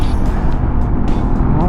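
A QJ Motor Fortress 400 maxi scooter overtakes traffic, its engine and road rumble loud and steady close by, with a brief rush of passing vehicles and wind noise throughout.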